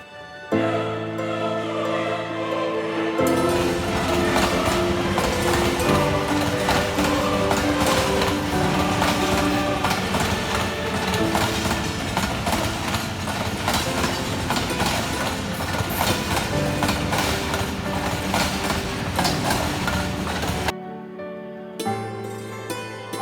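A train in Pakistan rolls along the rails toward Lahore, a loud, steady rumble with rhythmic clickety-clack of wheels over track joints that continues throughout, then briefly cuts out and returns near the end.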